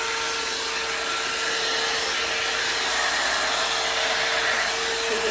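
A hair dryer blows steadily while drying natural hair for a silk press, a loud, constant airy rush with a whining motor tone that never breaks.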